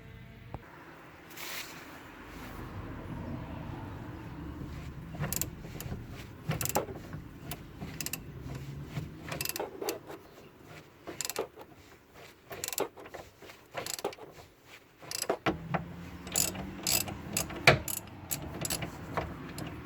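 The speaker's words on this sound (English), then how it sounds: "So I'm gonna loosen this bolt here." A ratchet works on a strut assembly bolt during suspension removal, giving quiet, irregular clicking bursts and metallic knocks with pauses between them, close by and fairly faint.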